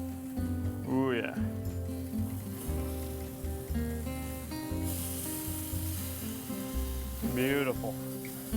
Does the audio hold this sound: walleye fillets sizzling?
yes